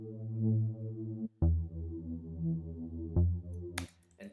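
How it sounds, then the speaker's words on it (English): Synth support bass designed in Sylenth, played alone as deep sustained bass notes in a short phrase, with a few sharp clicks between notes and a brief noisy burst at the end. "so with the support bass, let me play it by itself."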